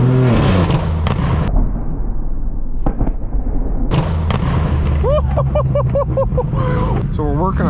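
Straight-piped BMW M4 F82 roaring through revs with sharp, loud exhaust pops and crackles in bursts, heard from inside the car among other loud cars, with people talking and whooping over it.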